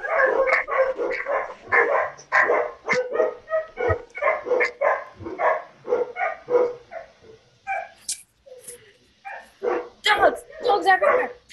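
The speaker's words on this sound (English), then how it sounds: "Dogs everywhere!" Dogs in Wind Waker HD bark over and over in quick, loud bursts, mixing sharp woofs with higher yips in an uneven rhythm that thins briefly near the end before picking up again.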